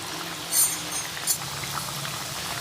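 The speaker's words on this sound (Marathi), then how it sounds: "बघू तेल गरम झालेलं आहे आता एक एक कापणी आपण यामध्ये सोडूयात" Triangular wheat flour kapnya pieces dropped one by one into hot oil, with a steady bubbling fry hiss and two brief brighter splashes as pieces go in, close and unaccompanied by talk.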